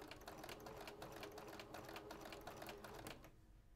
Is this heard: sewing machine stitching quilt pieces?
yes